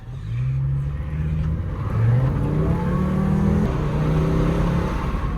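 A Volkswagen Jetta engine revs and accelerates with windows down, its pitch rising in repeated surges through the gears, heard fairly close with a steady droning tone.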